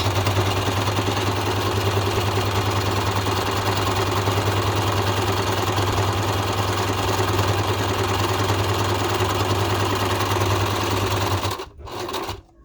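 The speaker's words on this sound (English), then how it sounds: "All right, so we're going to start sewing. Put our presser foot down. Give it a back stitch." A domestic sewing machine runs continuously, stitching scrap fabric for a wristlet key fob with a steady buzzing whir that stops abruptly near the end, close and loud with no talking.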